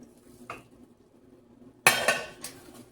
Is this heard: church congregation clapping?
no